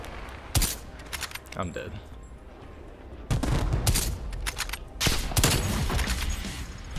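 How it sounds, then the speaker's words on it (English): Gunfire in Call of Duty, near loud shots and bursts of rapid automatic fire rising after a quieter stretch, with a player speaking briefly under the shooting. "somebody shot me in the fucking side"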